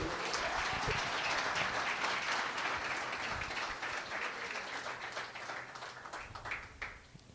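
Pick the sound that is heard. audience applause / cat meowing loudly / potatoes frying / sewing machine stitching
audience applause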